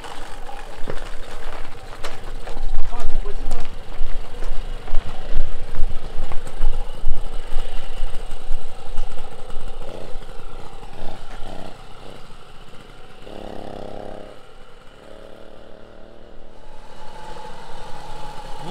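A 1975 Motobecane 50 V two-stroke moped engine sputters to life and settles into a loud, buzzing idle with rapid, uneven firing, heard up close for a long stretch.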